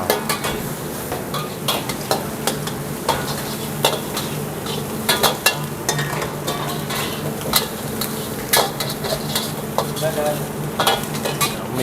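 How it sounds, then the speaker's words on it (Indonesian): Oil added to a hot pan in a busy restaurant kitchen making bakso and noodles, with steady loud sizzling, metal utensils scraping and clanking against the pan throughout. "minyak kita masukin ya"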